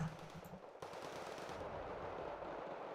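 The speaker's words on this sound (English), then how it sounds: "You're fighting with your MG because you're out of autocannon ammo." Sustained machine gun fire rattles without pause in Wargame: Red Dragon, a dense stream of rapid shots, loud and continuous, with no voices.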